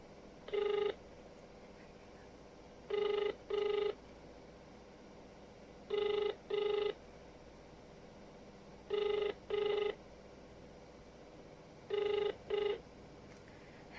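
Telephone ringing for a prank call: a repeating pattern of paired ring bursts, about five double rings spaced evenly, clear and fairly loud over a quiet background with no talking.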